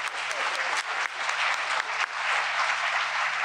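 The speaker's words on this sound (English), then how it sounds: "So please, just one more round of applause for her." A lecture audience gives a speaker a round of applause, continuous clapping from many hands that rises and dips slightly, sustained at a steady moderate level.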